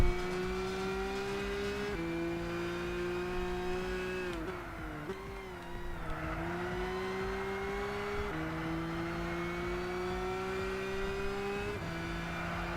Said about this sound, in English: Because I'm driving a car at 120 miles an hour apparently, 130 even.